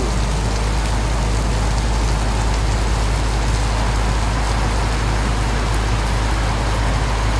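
Heavy rain pours down in a constant loud hiss at a bus, with a faint low rumble of traffic underneath.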